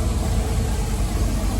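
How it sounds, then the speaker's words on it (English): Chevrolet Monte Carlo LS car engine running as the car is moved, a steady rumbling idle with low throb filling the short stretch, fairly loud and continuous with no speech. "Apologize for the noise. We got that LS Monty being moved."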